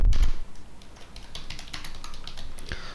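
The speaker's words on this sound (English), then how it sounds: "Now we're gonna just type the exact same thing which I'm typing." Rapid keystrokes on a computer keyboard, close and clear after an initial bump, a steady rhythm of clicks continuing throughout with no talk.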